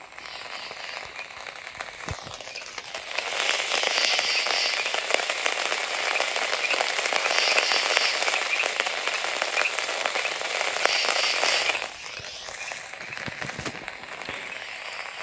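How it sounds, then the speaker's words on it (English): A rain-sounds app plays a recorded rain-on-tent track: dense pattering rain drums on a taut fabric surface, swelling to a steady loud patter before easing back to a lighter drizzle; no voices. "They do have, as we talked about before, the Rain on Tent"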